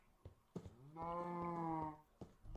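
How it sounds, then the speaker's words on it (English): Cows moo in the Minecraft modpack Agrarian Skies, one clear, drawn-out moo of about a second, close and fairly quiet, framed by short clicky game sounds. "And in addition to that, I have some cows."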